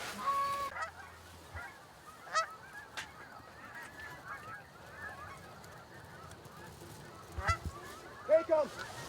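Canada geese honk during a goose hunt in New York, scattered calls near and far over a quiet field, louder bursts near the end, with faint low voices.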